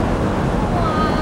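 Rushing creek water in the Jianshi mountains, a loud continuous roar of fast-flowing stream close to the microphone, with a blustery wash like wind buffeting over a brief moment.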